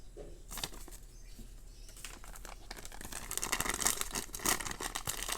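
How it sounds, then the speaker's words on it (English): Thin plastic packaging for a Swiss+Tech ST021024A 16-in-1 multi-tool crinkles and rustles close by in irregular handling bursts that grow busier and louder toward the end, with no voices. "And it comes in this plastic bag."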